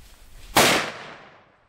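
A single sharp rifle shot during a buffalo hunt cracks loudly outdoors, then decays in a short fading echo.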